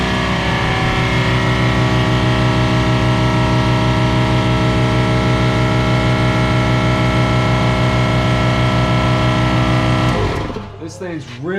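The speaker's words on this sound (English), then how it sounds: "It's a 230 volt compressor." A 230 volt air compressor runs steadily as it builds pressure, a loud, continuous motor drone with a pulsing, rhythmic chug, close up, ending abruptly near the end as the machine winds down.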